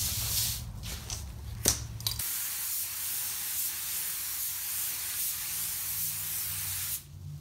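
A spray gun lays down a first coat of candy paint with a loud, steady, close hiss that runs almost the whole time and cuts off near the end.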